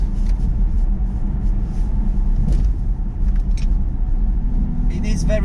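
A BMW 330e Touring plug-in hybrid with four-wheel drive running its combustion engine on a very bumpy road, a steady loud cabin rumble and road roar with faint rattles, without pause.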